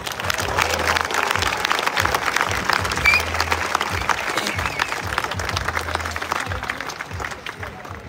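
Dense, steady applause from a large outdoor crowd in Tampere city centre greeting the head coach of Finland's national basketball team at a EuroBasket 2025 celebration, loud throughout and easing slightly at the end, over a low pulsing beat.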